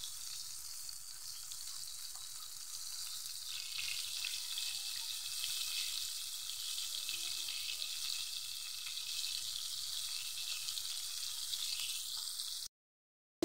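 Chicken frying in a pan gives a steady, dense sizzle with a bright crackling hiss that holds evenly for about twelve seconds, then cuts off abruptly.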